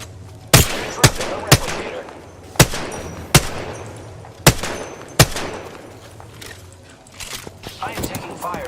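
Gunfire in Apex Legends: about eight sharp, loud shots crack out at irregular intervals, some in quick pairs, over a low, steady background hum.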